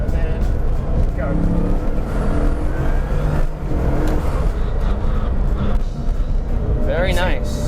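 A Bugatti Veyron 16.4 Grand Sport Vitesse pulls away in second gear out of a corner, its engine roaring and whirring steadily from inside the cabin while people talk over it.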